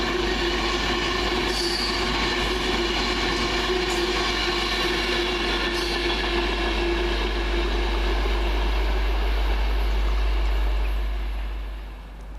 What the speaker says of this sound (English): Next up, 39132 working 1A19 off Manchester Piccadilly going to London Euston for Virgin Trains.